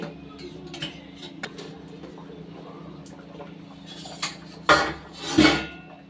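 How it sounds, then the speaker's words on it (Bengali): A lid is lifted off a pot of phena bhat, rice and vegetables boiling in starchy water, giving two brief metallic clatters near the end over a steady low bubbling simmer. "এবার ঢাকাটা খুলে নিচ্ছি।"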